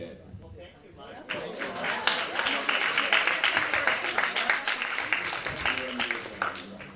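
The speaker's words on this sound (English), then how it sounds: "a round of applause for our panelists" An audience at a live-streamed LGBTQ studies event breaks into sustained applause for panelists. The clapping builds after about a second and stays dense and steady, fairly close, with some voices mixed in.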